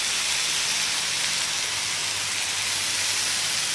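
Pork sizzling in olive oil in a pan at a camp cooking setup, a steady, dense hiss that runs unbroken and fairly loud throughout, with no voices over it.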